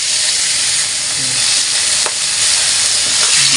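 Chicken breast frying in a small amount of oil, a steady broadband sizzle that holds loud and close throughout, with a few soft clicks and stirring scrapes.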